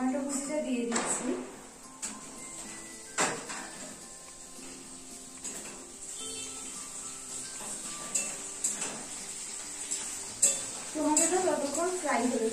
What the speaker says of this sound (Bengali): এখন আমি টমেটো কুচিটা দিয়ে দিচ্ছি